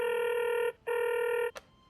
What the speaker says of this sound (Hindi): अब हम कोशिश कर रहे हैं फोन लाइन पे जोड़ने की